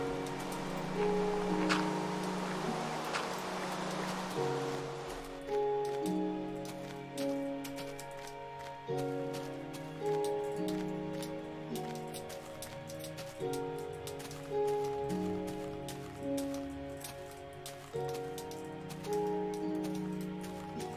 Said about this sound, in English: I swear this is the first time it's ever rained here.